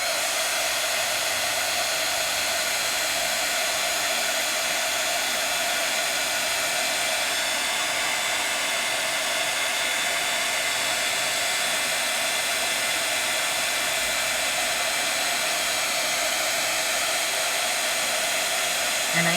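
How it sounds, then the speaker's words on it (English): Heat tool blowing hot air onto Fluffy Stuff puff paste: a loud, continuous, even whooshing blower hum that holds steady throughout with no voices. "now I can take my heat tool and bring my fluffy stuff alive"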